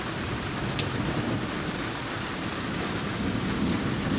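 Steady rain drips and patters from a roof during a thunderstorm, a dense continuous wash of water sounds, no voices.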